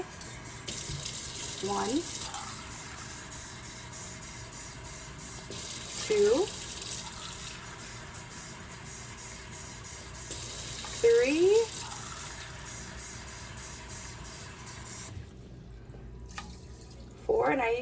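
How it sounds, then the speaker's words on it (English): Water poured from a measuring cup into a rice cooker bowl, four cups in all, coming as a few soft separate pours with gaps between them, while a voice counts along quietly. "So I just use the measuring cup to measure out 4 cups of water."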